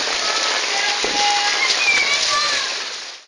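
Steady heavy rain pours down outdoors in a Brazilian neighborhood, a dense, loud hiss of drops hitting the ground that holds constant throughout and fades only at the very end.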